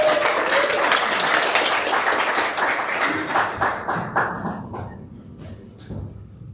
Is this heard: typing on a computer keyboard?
no